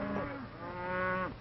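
A single cow on a western ranch gives one close, clear moo lasting just over a second, rising and then falling in a drawn-out bellow, with no other sounds around it.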